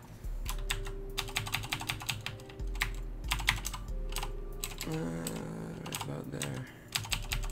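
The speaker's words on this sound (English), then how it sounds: "press and hold shift and then do the directional keys, that makes it go in smaller directions" Computer keyboard keys clatter in rapid bursts of close, crisp taps while building a vehicle in Kerbal Space Program, with a voice speaking briefly between the typing.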